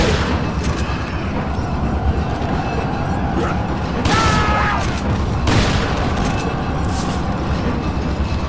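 Gunfire in Resident Evil 4, fought against chainsaw-wielding enemies: a few heavy booming shots, the loudest near four and five and a half seconds, set over a dense, noisy game backdrop with brief speech.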